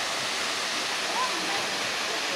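Water rushing at Manning Gorge, a steady broadband roar close by that fills the whole short stretch, with voices faintly mixed in.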